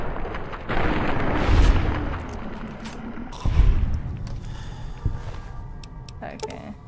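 Gunfire in an Apex Legends match, with booming shotgun-like blasts near 1.5 and 3.6 seconds over dense game noise and scattered smaller impacts.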